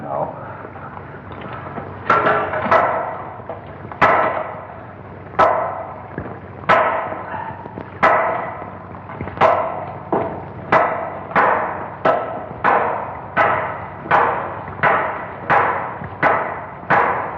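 Hammers strike a wall to break through it, a series of sharp, loud impacts that start spaced apart and then fall into a fast, steady rhythm of repeated blows, close and echoing over low background noise.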